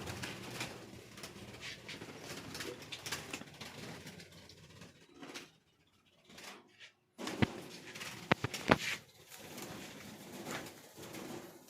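Pigeons cooing in a newly set up bird colony, soft repeated coos and rustling close by, with a brief quiet gap midway and a few sharper knocks and wing movements afterwards.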